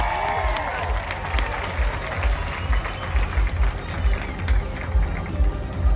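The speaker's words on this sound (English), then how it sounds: "Ladies and gentlemen, give him a round of applause." Rodeo crowd clapping and cheering in a steady, dense burst of applause filling an arena, close and continuous without a break.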